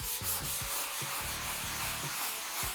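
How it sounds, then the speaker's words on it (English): Stiff-bristled brush scrubbing degreaser into a stain on a hard surface, making close, repeated rough rasping strokes in an uneven back-and-forth rhythm with no talk. "we're going to scrub the stain with a stiff bristled brush"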